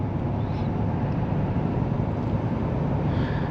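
A 2024 Ford F-450 Limited dually with a brand-new diesel engine drones low and steady from inside the cab while cruising gently, a smooth unbroken rumble with no talk.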